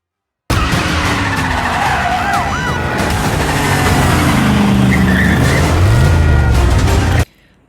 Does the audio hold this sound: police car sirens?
yes